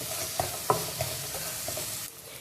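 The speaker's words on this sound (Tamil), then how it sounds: "இந்த வெங்காயம் நல்லா வதங்கணும். நல்லா ப்ரௌன் ஆகிற அளவுக்கு நல்லா வதக்கணும்." Onions sautéing in a pan until brown for a dry fish curry, soft sizzle under a few distinct clinks and scrapes of a stirring spoon, close and brief.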